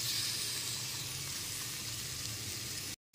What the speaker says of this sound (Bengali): এর মধ্যে ভেজে রাখা ভেন্ডিগুলো দিয়ে দিচ্ছি